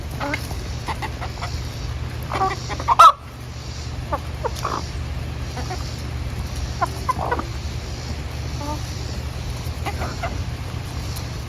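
Chickens cluck softly and intermittently over a steady low hum, with a brief sharp knock early on; no talking.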